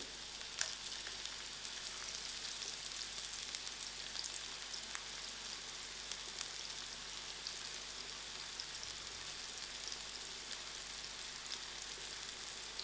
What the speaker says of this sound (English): I'll allow these onions to fry till it's golden brown